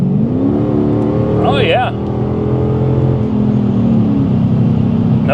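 A Dodge Scat Pack V8 revs and pulls hard under acceleration, a deep steady engine drone from inside the car with a rising note, while someone speaks briefly over it.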